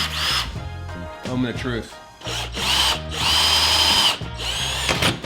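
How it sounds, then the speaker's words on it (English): A power drill bores through the two metal layers of a Jeep Wrangler hood in loud, whining bursts that pause and restart several times, with a person speaking briefly between them. "there are 2 layers of metal to drill through on the Jeep hood."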